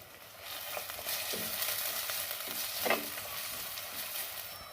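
Crushed garlic fries in a pan as it is stirred, a continuous bright sizzle with intermittent scraping strokes of the utensil, close and steady, with no talking.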